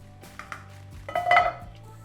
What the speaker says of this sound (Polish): Przemywam patelnię.